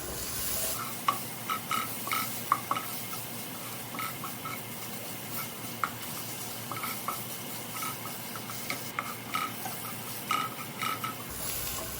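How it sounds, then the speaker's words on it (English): Ginger garlic paste fries in a pan with a steady sizzle and irregular stirring scrapes and clinks, close and moderately loud throughout with no voices. "Fry it for a few minutes till the raw smell of the garlic is gone."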